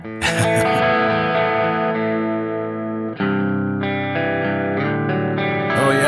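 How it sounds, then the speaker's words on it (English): An electric guitar with P90 pickups set to the middle pickup position plays sustained, ringing chords with a bright, slightly driven tone, one chord held then a change to another. "if you go in the middle position, I'm going to go there, they call it the acoustic tone."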